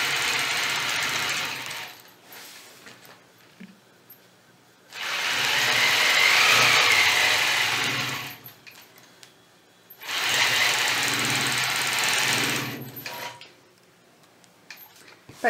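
A sewing machine stitches a scalloped quilt border with a quilting ruler in two loud bursts of rapid, buzzing stitching several seconds long, each separated by quieter pauses with faint handling noises.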